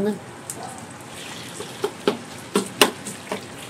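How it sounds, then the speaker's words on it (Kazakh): Meat frying in hot oil in a kazan cauldron and being stirred with a spatula, a soft steady sizzle broken by several sharp scraping clicks of the utensil against the pot. "Ет біріне-бір жабысып қалмау үшін үнемі қазан менен чөгішті үнемі қозғалыста ұстау керек."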